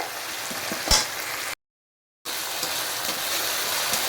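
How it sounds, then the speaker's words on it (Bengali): Onions frying in a pan over a high flame, a steady close sizzle with a small clatter early on and a short dead gap midway before the hiss resumes, no talking. "হাই ফ্লেমে তো দেখো পেঁয়াজটা ভালো করে ফ্রাই হয়ে এসছে"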